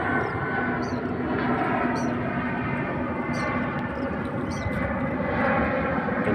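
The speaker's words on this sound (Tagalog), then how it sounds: "Yun ang malaki, oh. Aeroplano." A large airplane passing overhead, a steady broad engine roar holding evenly throughout, with faint chirps of birds on top.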